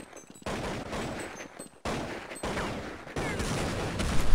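Desert Eagle pistol shots fired in a Counter-Strike match on de_nuke, several sharp, loud reports cracking out in separate bursts amid game ambience, with a cluster of rapid gunfire building at the close.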